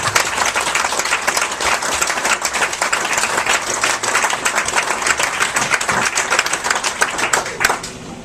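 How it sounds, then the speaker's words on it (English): Sustained applause from a large crowd at a keynote tribute, dense steady clapping throughout that swells slightly near the end before tapering. "let's give them one round of applause for that"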